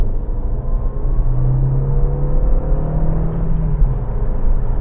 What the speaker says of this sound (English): Oh, there's turbo noises.